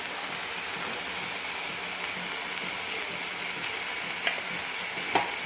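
Coarsely crushed peanuts and garlic stirred into a pan of spring onion greens, a continuous close sizzle with scattered scraping and clicking stirs growing sharper near the end, no voices.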